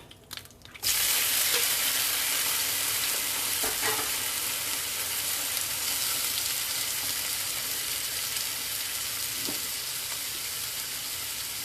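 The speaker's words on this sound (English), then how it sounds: "I'm going to cook my shrimp in this same bowl" Shrimp cooking in a bowl, starting with a sudden loud burst of sizzling that settles into a steady, close, continuous hiss and crackle for the rest of the clip, with no talking.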